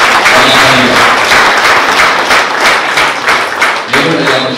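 An audience at a community Umuganura harvest gathering in Gisozi, Rwanda claps together, a loud, dense burst of applause with rhythmic clapping and thumps, some voices mixed in, easing briefly before rising again.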